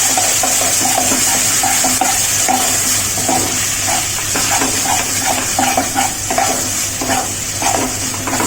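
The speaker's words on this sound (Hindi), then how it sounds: "देखिए मसाला भुना गया है, तेल जो है मसाले से अलग हो रहा है।" Aubergine masala fries in oil in a pan, hissing constantly and loudly, while a spoon stirs it in short repeated scrapes and knocks. No one speaks.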